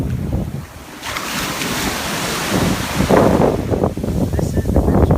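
Mediterranean Sea waves wash over feet at the shore, a close, rushing surf heavily buffeted by wind noise on the microphone.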